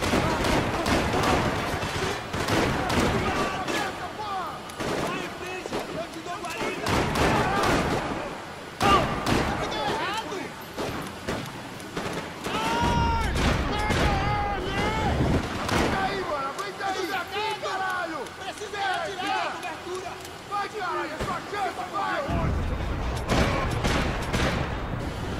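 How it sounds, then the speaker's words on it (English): Repeated gunfire bursts and heavy explosive thumps from a grenade launcher in the video game Max Payne 3, loud and dense across the scene, mixed with in-game speech and shouting. "Come on, he's gonna fire another grenade"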